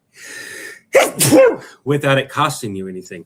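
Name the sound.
sneeze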